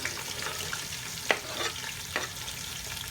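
Onions added to hot oil in a pot for chicken korma curry, frying with a steady close-up sizzle and a couple of sharp clacks as they are stirred, no voices.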